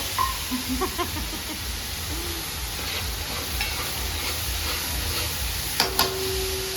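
Steady sizzling of spices frying in hot oil for a tempering for patra, with occasional stirring clinks and a brief scrape near the end; no talking.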